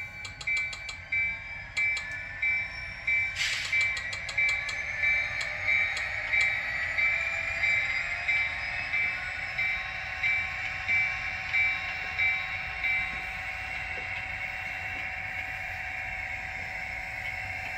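A Kato BN SD40-2 model diesel locomotive with a sound decoder runs forward, a steady synthesized engine hum with rhythmic rail clicks and a brief horn-like tone early on, all fairly quiet and close.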